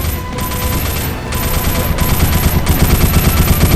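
Robot firing in a PC game: rapid, sustained automatic gunfire bursts in steady rhythm, loud and close, with short gaps between volleys and no talk.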